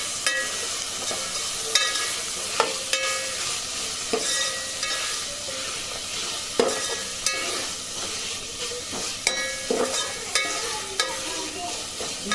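Coriander and mint frying in a pan with onions for paneer cashew pulao, a steady close sizzle broken by frequent scraping stirs and clinks of a spatula, with no talking.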